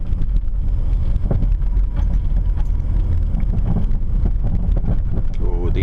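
A car rolls over a rough, pothole-strewn residential street, with low rumbling thumps and jolts from the suspension under constant road and wind noise inside the cabin.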